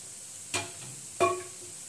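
Aluvadi, colocasia leaf rolls, fry quietly in oil in a pan, a soft steady sizzle broken by two sharp sputters or utensil knocks about half a second apart.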